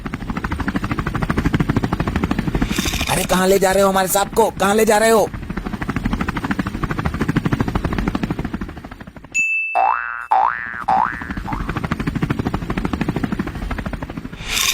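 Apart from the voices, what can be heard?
helicopter flying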